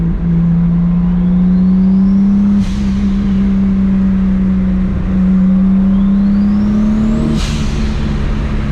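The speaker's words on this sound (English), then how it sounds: "Oh, that turbo spool." Toyota Supra MKIV turbo spooling during hard acceleration on the road, a loud steady engine drone with a rising turbo whistle that climbs twice and releases sharply, with no talking.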